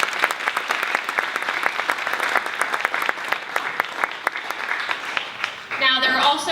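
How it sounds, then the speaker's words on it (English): Evening event audience gives a steady round of applause, dense even clapping sustained for several seconds before a voice resumes speaking over it. "I just want to give her a round of applause"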